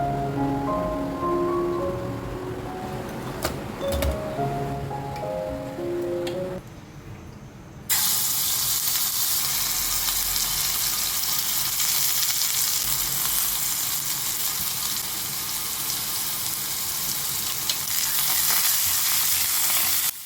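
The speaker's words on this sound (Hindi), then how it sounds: "तड़के में शामिल हैं लहसुन का पेस्ट, कड़ी पत्ते और वाइट ज़ीरा, और इसमें कुछ फ्रेश धनिया" A karhi tadka of garlic paste, curry leaves and white cumin hits the hot pan after a short stretch of music, then sizzles loudly and steadily, close up, until the end with no talking.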